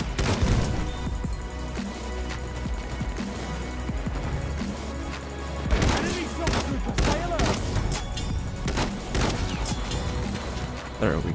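Farquhar rifle shots in Battlefield 1, a string of sharp reports over constant battlefield din, with a player talking throughout.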